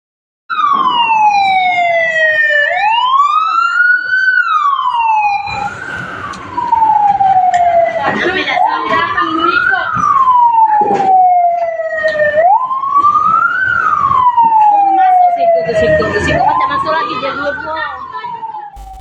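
Fire truck sirens wail at a nut storage warehouse fire in Palembang. Loud, continuous rising and falling tones repeat over street rumble and commotion.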